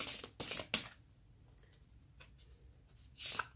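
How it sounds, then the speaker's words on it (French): Tarot cards being shuffled and drawn for a reading, heard as several quick, close, papery riffles and flicks in short bursts at the start and end, with quieter card handling in between and no talking. "Je tire encore les cartes pour voir."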